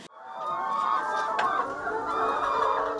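Chickens cluck steadily on a farm in Kandara where cows are also kept, a dense layered flock chatter that stays fairly loud and close throughout, with no talking over it.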